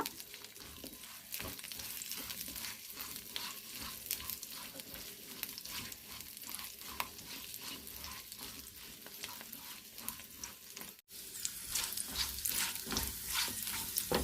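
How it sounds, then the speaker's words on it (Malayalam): Drumstick pods (moringa) frying in a pan for a traditional fried curry, giving a loud, continuous crackling sizzle with stirring scrapes throughout and one brief dropout near the end. "അത് മുരിങ്ങക്കായി ഒന്ന് പൊരിച്ചിട്ട് എടുക്കാം"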